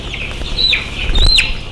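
Chickens cluck and squawk close by, a couple of sharper calls rising over a steady low background of farmyard noise.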